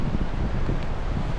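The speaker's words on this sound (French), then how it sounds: "c'est entre le vent et le débit de l'eau" Steady wind rumbles and rushes close to the microphone beside a flowing river at a ruined old mill near Najac in Aveyron, a dense low roar that buries any faint sound of the water, with no talking.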